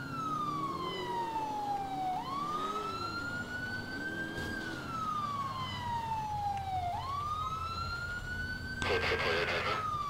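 A wailing police car siren in the video game GTA 4 rises and falls in long sweeps over steady engine rumble, with a burst of noise near the end.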